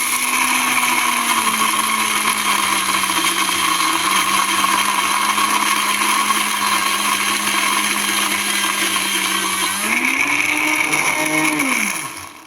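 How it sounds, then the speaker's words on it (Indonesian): Electric blender grinding peanuts until fine for peanut cookies, a loud steady whir running continuously for about ten seconds, then the motor pitch rises and winds down as it stops. "Ini kita blender dulu ya, kita blender sampai halus."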